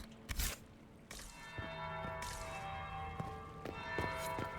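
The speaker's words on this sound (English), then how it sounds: "That's the bell." A bell tolls in Dragon Age: Inquisition at the Winter Palace, a few loud struck peals with long ringing overtones that sustain and overlap, heard alone without talk.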